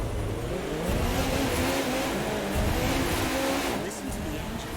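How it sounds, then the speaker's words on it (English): A car engine in The Crew 2 racing game revs hard and continuously at close range, with a rising and falling roar over several seconds and no voices. "Listen to the engine."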